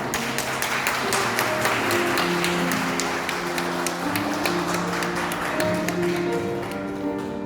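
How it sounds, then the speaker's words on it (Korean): Wedding guests applaud in a continuous patter of clapping, with music or tonal sound underneath and no speech. "박수 부탁드립니다."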